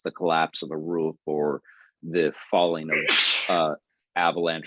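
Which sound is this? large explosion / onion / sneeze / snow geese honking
sneeze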